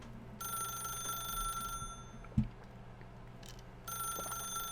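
A telephone rings in The Stanley Parable: Ultra Deluxe, two long electronic ring bursts separated by a pause, with a single soft thud between them in a quiet room.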